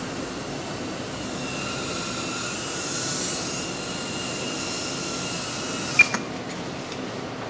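An Inductrix micro drone flies with a steady high-pitched motor whir that holds evenly for about six seconds, then cuts off abruptly with a couple of faint clicks before near silence.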